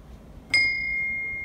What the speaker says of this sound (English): take this off and actually ring the bell itself with this